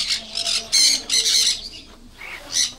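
Parrots and lovebirds kept in a bird collection give loud, harsh squawks in repeated close bursts, with no talking.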